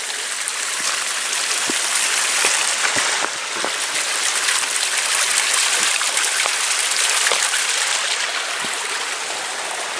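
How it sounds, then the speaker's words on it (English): A stream rushes beneath a small trail bridge at Mount Rainier, a loud, steady wash of flowing water heard close by, with faint scattered knocks and no talking. "stream flowing underneath it."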